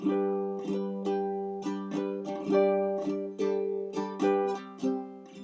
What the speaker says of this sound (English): So normal up and down strum